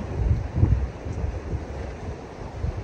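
Strong gusting wind buffets a sailboat riding at anchor in Gökova bay, Turkey, moored on 25 metres of chain with a line to the rocks; a loud, steady roar of rushing air and water.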